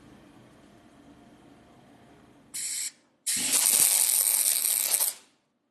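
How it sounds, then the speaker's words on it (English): Welding on the outer sill of an Alfa Romeo GT during restoration: two loud harsh bursts of crackling arc noise, a short one then a longer sustained one, close and alone after a quiet lead-in. "And now we can go ahead and weld the outer sill in place."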